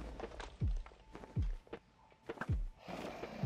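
Bow shots fired at crystals in Minecraft: four separate twangy thunks with a falling pitch sweep, spaced about a second apart, against a busy game background.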